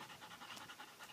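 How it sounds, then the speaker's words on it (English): A tired, hot dog pants quickly and rhythmically at close range, a soft, steady string of breathy huffs with no talking. "She looks like she's tired. She's panting a lot."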